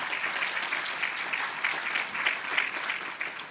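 A large audience at a university economic forecast event breaks into dense, sustained applause, a steady wash of many hands clapping at fairly close range, with no talking over it.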